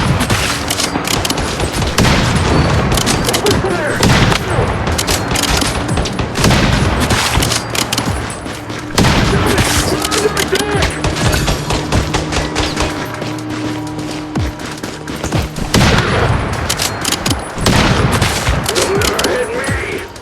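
Sustained gunfire in the Once Human zombie survival game, dense volleys of shots and booms continuing loudly for the whole stretch, with shouted voices over the shooting.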